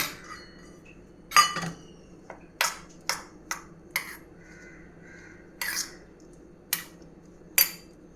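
Black pepper and finely chopped green chilli being mixed into a homemade pizza topping, heard as a series of sharp, separate clinks and taps of a utensil against a bowl with pauses between, close and fairly quiet, no talking.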